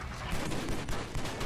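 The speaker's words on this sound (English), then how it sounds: "I shot the fuck out of that pole." Rapid gunfire from the Xbox 360 game John Woo's Stranglehold in its Hong Kong Marketplace chapter, a dense burst of shots loud and close for about a second and a half with no talk.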